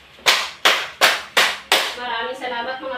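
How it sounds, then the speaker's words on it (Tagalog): A class of children claps in unison five times, evenly spaced sharp claps, close and loud, followed by a voice speaking briefly. "Bigyan natin ng 5 palakpak ang unang pangkat."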